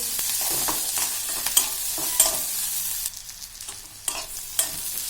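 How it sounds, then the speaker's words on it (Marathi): Onion frying in a pan with pepper, cloves, cinnamon and cardamom, giving a continuous sizzle broken by repeated scraping strokes of a spoon stirring the mixture. "कांदा हा गुलबट आपल्याला होऊ द्यायचा आहे।"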